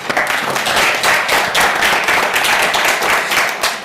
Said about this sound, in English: So quick round of applause for MSD.